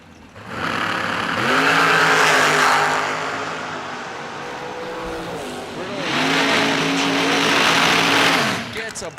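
Dragsters race down the strip at the 3rd Annual Fall Brawl, with two loud surges of engine roar that swell and fade as the cars pass. An announcer's voice runs underneath.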